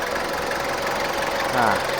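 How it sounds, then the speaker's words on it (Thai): A 2003 Ford Everest 2.5 LTD seven-seat SUV idles nearby with an even, low mechanical hum and a slight knocking texture, while a voice briefly speaks over it toward the end. "นี่ ฟังเสียงเครื่องยนต์กัน"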